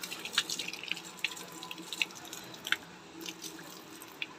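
Water running from a tap over plant leaves as they are washed, a steady soft splashing with scattered drips and patters, fairly quiet and close.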